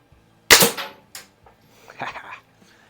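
A single sharp crack from a Daisy 499B BB gun fired at targets, followed by a faint metallic tick and a softer rattle, close and clear against quiet surroundings.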